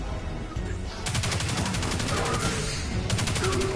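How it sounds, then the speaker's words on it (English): The Arc Conductor, an electric energy gun in Destiny 2, fires a sustained, dense crackling barrage, loud and continuous for several seconds over a steady battle din. "Arc conductor, eh? They fire balls."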